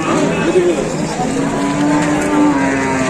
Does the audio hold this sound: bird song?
no